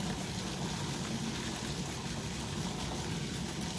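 A waterfall runs steadily in the background, a constant, even rush of splashing water with no breaks.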